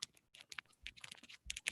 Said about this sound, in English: sorry, I'm busy typing